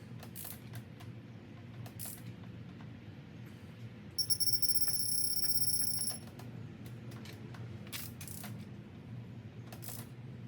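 A torque wrench tightens bolts on a fully built BMW in a quiet workshop, giving soft intermittent ratcheting clicks with one brief, denser burst of clicking in the middle, all faint and with no talking.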